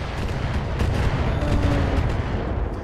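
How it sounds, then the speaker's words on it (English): Weapon fire from an Atlas mech's Gauss rifle in the Battletech video game: a dense, continuous low rumble of heavy combat sounds at steady loudness, with no talking. "And it misses with its Gauss rifle."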